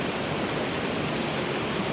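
Running water pouring into a backyard pond, a steady, dense rushing splash heard up close and fairly loud, continuous without pauses or talk.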